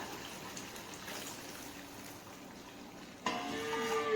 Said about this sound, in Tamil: மசாலாலாம் நல்லா சுண்டி கொதிச்சு வர நேரத்துக்கு வேக வச்ச கறி தண்ணியை சேர்த்துக்கலாம்.